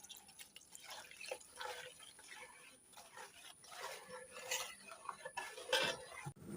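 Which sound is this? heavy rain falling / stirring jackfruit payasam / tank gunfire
stirring jackfruit payasam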